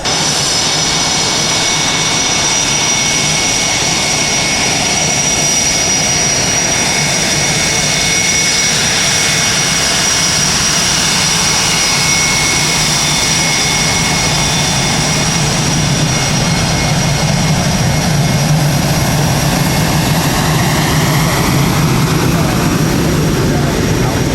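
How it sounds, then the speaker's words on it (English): A single-seat F/A-18 Super Hornet jet from the Sunliners squadron passes over the 2012 NAS Oceana air show, filling the air with a loud, sustained roar and a high whine that holds steady for the whole stretch. "the single seat Rhino from the Sunliners going by."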